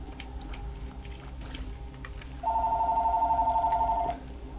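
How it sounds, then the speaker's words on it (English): Mobile phone with a loud ringer going off nearby, a single sustained electronic trill lasting under two seconds over a quiet room background. "Maybe I shouldn't have my phone with its loud ringer right next to me"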